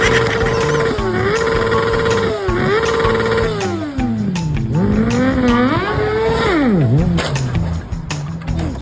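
A motorcycle engine revs loudly and up close, its pitch repeatedly swooping up and down in sharp rises and dips with a continuous throaty drone.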